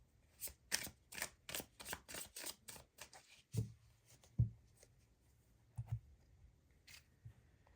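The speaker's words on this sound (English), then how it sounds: "Let's get some clarifying tarot cards on these with the Light Seers Tarot." Tarot cards from a Light Seers deck being shuffled and drawn, giving a quick series of crisp riffling flicks followed by a few softer taps and slides, close up and quiet, with no voices.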